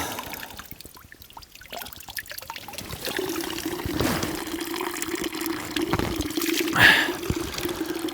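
Water trickles and dribbles steadily from the Shamlugh sour mineral spring in the Lori forest, a soft continuous babble that grows slightly fuller midway, with no talk.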